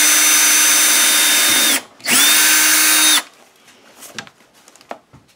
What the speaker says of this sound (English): So I drilled a hole here